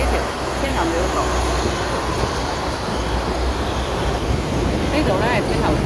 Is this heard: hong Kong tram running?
yes